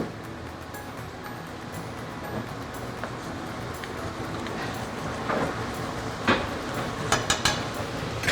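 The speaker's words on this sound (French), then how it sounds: "Avec de l'eau froide, je viens faire un déglaçage. Instantanément, ça bout." Cold water poured into a hot frying pan after searing beef fillet boils up at once, making a rushing hiss, with metal utensils scraping and clinking against the pan and louder clatters toward the end.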